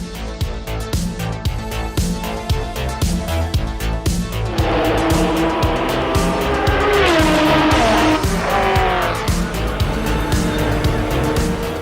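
A Porsche 956/962 race car drives hard, its engine note pulsing rhythmically and then rising into a loud, sustained high-revving wail with tire squeal, close and continuous without talk.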